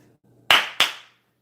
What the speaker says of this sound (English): Double Jason Garrett clap.